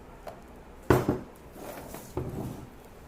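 Whole wheat flour dough being stirred in a bowl for focaccia, a few soft knocks and scraping sounds close up, two distinct clunks amid quiet rustling.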